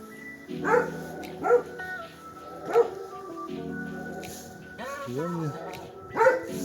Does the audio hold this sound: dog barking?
yes